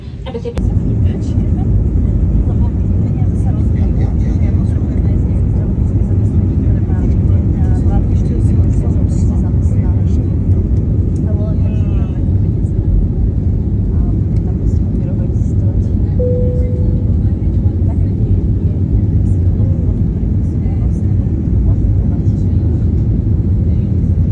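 A steady, loud low rumble fills an airliner cabin during priority boarding, with voices talking over the constant engine and ventilation drone.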